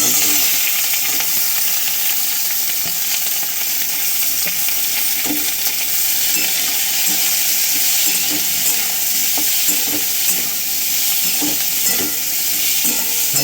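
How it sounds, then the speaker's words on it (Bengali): Quartered onion and tomato with capsicum and beans frying in a pan for fried rice, a loud continuous sizzle punctuated by soft intermittent stirring knocks. "এগুলো সব আমি ভেজে নেব।"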